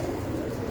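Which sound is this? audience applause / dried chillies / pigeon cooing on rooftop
pigeon cooing on rooftop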